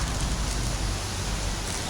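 Rain falls outdoors as a steady, dense hiss, with no distinct drops standing out.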